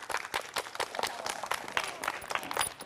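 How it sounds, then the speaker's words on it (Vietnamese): Students clapping for a group in a school physical education class, a busy patter of many hands with overlapping voices and shouts mixed in. "vỗ tay tổ 1 coi"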